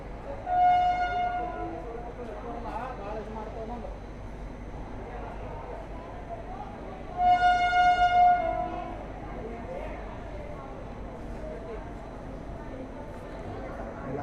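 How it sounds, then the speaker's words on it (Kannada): An express train departs Kalaburagi station bound for Surat, its horn sounding in two loud blasts about seven seconds apart over a steady rumble of running noise. "ತಡವಾಗಿ ನಮ್ಮ ರೈಲು ಇಲ್ಲಿಂದ ಹೊರಟಿದೆ ಕಲಬುರಗಿಯಿಂದ"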